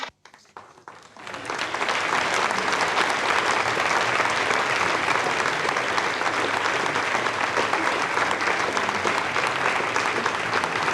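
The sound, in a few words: applause in Ariane 5 launch control after satellite separation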